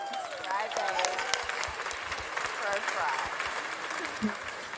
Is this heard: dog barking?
no